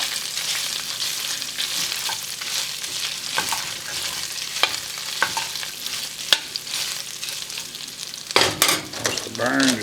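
Onions and peppers fry in a pot at an outdoor Cajun jambalaya cook, a steady close sizzle broken by scraping stirs and sharp utensil knocks against the metal.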